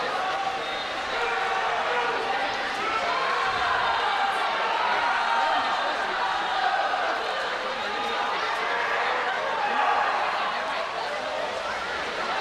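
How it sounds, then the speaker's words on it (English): Crowd cheering at a long course swimming state championship final, a steady broad roar of voices that carries through the whole stretch with no breaks. "And a very good cheering section will be behind us here in the final 50."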